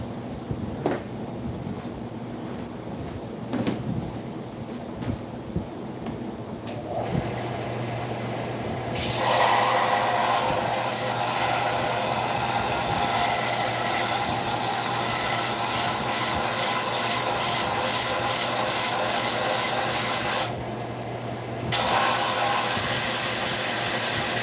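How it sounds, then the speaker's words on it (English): Sanding, with a steady hissing abrasive rasp that starts after some quiet, faint handling noises, stays loud and continuous for a long stretch, and briefly drops out near the end. "Sand this real quick."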